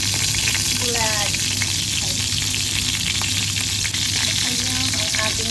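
Dried fish (bulad) frying in a pan makes a dense, continuous crackling sizzle, close and fairly loud, with a faint voice briefly in the background.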